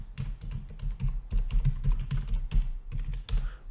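Someone types a password on a computer keyboard: a quick, irregular run of close, crisp key clicks with brief pauses between bursts, and no talking.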